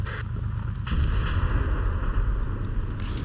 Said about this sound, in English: we have an IED explosion